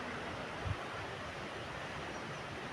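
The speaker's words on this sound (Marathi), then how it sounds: "लाटा छान उसळत आहेत" A steady, soft roar of sea surf washing in at low tide, a continuous broadband rush with no voices, heard from a little distance.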